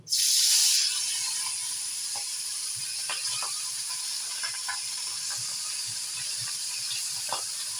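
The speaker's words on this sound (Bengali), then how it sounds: "এখন আমি মাছগুলোকে ভেজে নেব" Hilsa fish pieces hit hot oil with a sharp hiss, then settle into a steady sizzle with occasional pops and spatters, close by and without speech.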